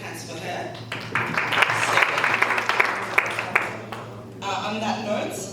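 Conference audience at a Women's Day event clapping hands, a swelling round of applause that rises and fades over several seconds, with a voice speaking over it near the start and again at the end.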